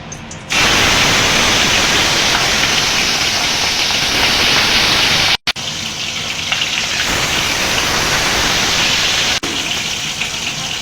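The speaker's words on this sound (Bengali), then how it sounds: "তেলটা গরম হয়ে গেছে, মাছগুলো দিয়ে দেব।" Kalbaush fish pieces dropped into hot oil in a wok, a loud continuous hiss and crackle of frying that runs nearly unbroken, cut by a brief gap, with no talking.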